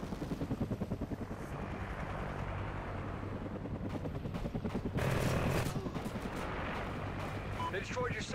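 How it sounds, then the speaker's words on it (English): A video game helicopter's rotor thumps rhythmically under bursts of gunfire and explosions, with scattered voices in a busy battle scene. "Friendly chopper inbound."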